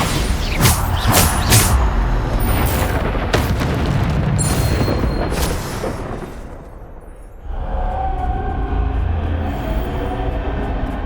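Bombarda spell explosions in Hogwarts Legacy boom and crack in a dense loud cluster at first, then fade into a lower rumbling ambience that swells back.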